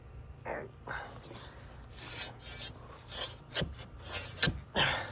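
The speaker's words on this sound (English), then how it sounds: "I got this little extendo rod that I'm gonna try and make an initial hole" Gritty scraping and rasping comes in short, irregular strokes, close up, as a metal rod is pushed into sand, with faint whispery breath between.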